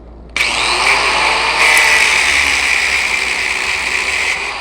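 A power tool cuts through metal screws being shortened for battery terminals during a Murray mower repair, starting abruptly into a loud, steady, close-up grinding whine that holds for several seconds.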